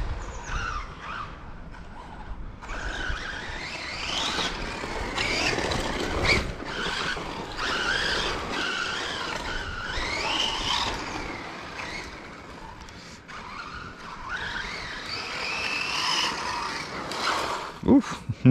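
A DB8SL car runs on a dirt track, its engine whining and rising and falling steadily throughout with occasional sliding tyre noise, fairly loud and continuous, ending in a few sharp knocks.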